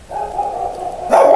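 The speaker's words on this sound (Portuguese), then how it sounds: "Os cachorros começam a latir aqui em casa e me alteram." Dogs barking at home, a sustained yelping bark followed by a sharper, louder burst, heard fairly close and with no talking.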